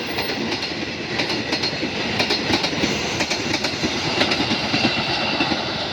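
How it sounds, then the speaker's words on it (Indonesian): Gajayana passenger train bound for Malang rolling past close by, a loud steady rumble with rhythmic clickety-clack of wheels over rail joints and faint squeal, no voices. "Gajayana ke Malang pakai Lipri Utri ke 81. Oke, ada kereta api dari arah kiri."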